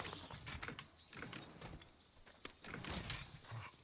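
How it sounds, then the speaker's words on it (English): Heavy bowgun reloading in Monster Hunter Rise, heard as faint, scattered mechanical clicks, clacks and ratcheting clunks spread irregularly across a few seconds. "if you pull it out with X, then it reloads"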